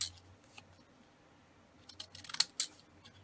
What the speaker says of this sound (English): I love these scissors